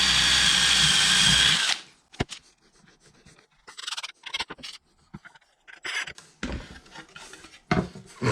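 A power drill pre-drilling wood whirs steadily for under two seconds, then stops, leaving scattered scrapes and handling noises of wood and tools.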